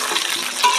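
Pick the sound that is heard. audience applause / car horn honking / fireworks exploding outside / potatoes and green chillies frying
potatoes and green chillies frying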